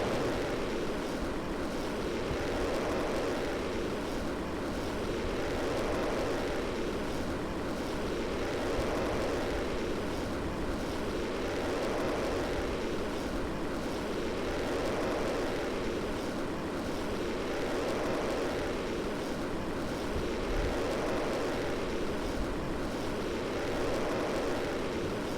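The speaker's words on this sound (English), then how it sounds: "Throttle up. Nighttime launch." Rocket engine roar during a nighttime launch in Kerbal Space Program: a dense, continuous rumble that swells and fades gently in slow pulses, loud and steady throughout with no voices.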